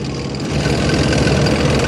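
A heavy military tank engine rumbles continuously at a steady idle, deep and loud throughout the short stretch.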